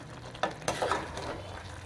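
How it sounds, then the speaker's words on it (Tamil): Masala and chicken being stirred together in a pan for Madurai-style chicken curry, with a couple of sharp utensil scrapes over a soft, steady sizzle close by. "மசாலா வந்து நல்லா எல்லாம் சேர்கிற அளவுக்கு நல்லா கலந்து விட்டுடலாம்"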